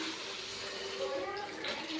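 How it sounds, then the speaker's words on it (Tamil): Water pours and splashes into a pot for a couple of seconds, a soft, steady gurgling stream. "இப்போ வந்து தண்ணி ஊற்ற போகிறேன்."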